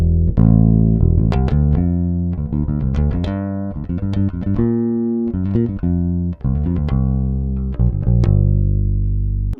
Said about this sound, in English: Here is the sound of the neck pickup.